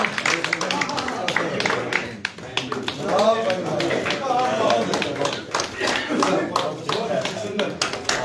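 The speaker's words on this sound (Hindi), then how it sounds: "तालियां तालियों से स्वागत।" Clapping from a gathering welcoming a former Jammu Chamber of Commerce & Industry president into the BJP, irregular hand claps mixed with thumps and a speaker's voice running over them throughout.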